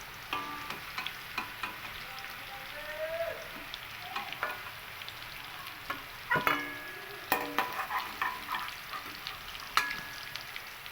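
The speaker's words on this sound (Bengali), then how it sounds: "গোটা জিরে ফোড়ন দিয়ে দিয়েছি শুকনো লঙ্কা আর তেজপাতা" Irregular stirring and scraping in a pan over a soft sizzle of whole cumin, dried red chillies and bay leaves frying in oil, with scattered clinks and sharp taps; steady and fairly quiet, no voices.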